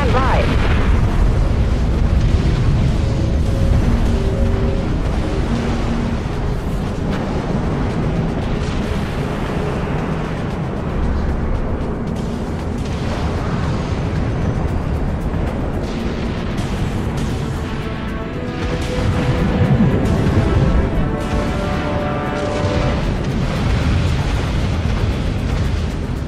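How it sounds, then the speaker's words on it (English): Missiles launch and explode in the video game Dreadnought: a dense run of booms, blasts and bursts that keeps rolling loudly, with swells of impacts over a constant rumbling bed. "Launching missiles. Enemy missiles incoming, Captain."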